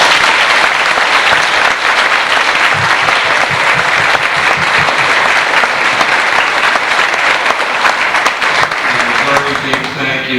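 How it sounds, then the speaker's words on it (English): An audience in a school assembly applauds first-grade children after their school play: loud, continuous, full-room clapping from many hands that holds steady throughout, with a few voices faintly mixed in. "Another round of applause, please, for our children."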